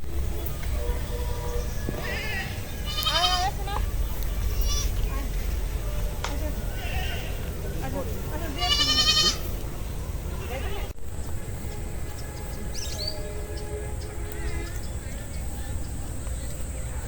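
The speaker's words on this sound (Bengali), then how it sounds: "এই যে কত ছাগল আছে" Goats bleat a few times at moderate distance in a village during light drizzle and wind, over a steady outdoor background, with a person talking at times.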